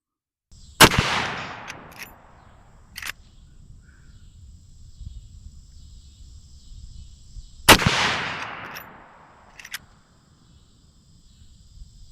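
Rossi R95 lever-action rifle firing 30-30 rounds outdoors at a target: two loud, sharp shots several seconds apart, each followed by a rolling echo and the clack of the lever being worked, with crickets chirping faintly in between.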